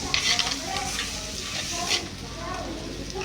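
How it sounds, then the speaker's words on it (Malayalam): Masala for squid curry sautéing in a pan on low flame, a gentle continuous sizzle with intermittent scraping stirs, moderately loud and close. "ലോ ഫ്ലെയിമിലാണ് ഒന്ന് വെക്കാൻ വെച്ച് നല്ല ഒന്ന് മൂത്ത് വഴറ്റിയെടുക്കണം"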